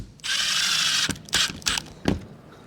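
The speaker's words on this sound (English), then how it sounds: "you can go ahead and use the screws that came with the fan and you can begin to screw them down" A power drill drives the mounting screws of a roof fan into a van roof: one long whirring run, then several short bursts and a final brief pulse, close and loud with no talk.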